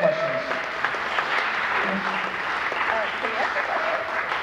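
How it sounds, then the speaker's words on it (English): Audience applause for filmmakers at a 48 Hour Film Project screening in the Music Box Theater, a steady wash of clapping that fills the room under some faint talk. "another round of applause for our filmmakers here"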